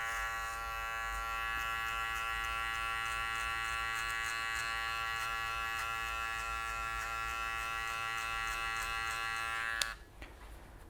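Electric hair clipper with a 1.5 guard comb buzzing steadily as it cuts hair in a barbershop fade, a constant close, loud drone that cuts off near the end.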